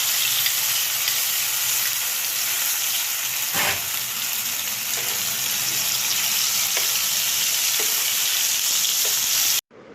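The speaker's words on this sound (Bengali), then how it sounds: "তেলের মধ্যে এখন মেশানো মশলাটাকে" Mixed spices and whole cumin sizzle steadily in hot oil for a fig curry, a loud continuous frying hiss with one brief sharp splutter near the middle and a few faint clicks, no voices.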